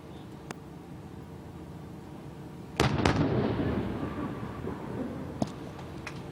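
Military weapons fire during a demonstration: a loud, close blast with a second report right after it, over steady background noise, followed by fainter scattered pops.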